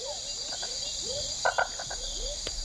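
Red-eyed tree frogs in an emerald rainforest give short, repeated chirping calls at a steady pace, close by, over a constant high insect chorus.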